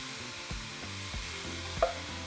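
Bite-sized pieces of pork shoulder and spare ribs sizzle steadily in a pot over medium-high heat, a soft continuous frying hiss broken by a few light stirring knocks.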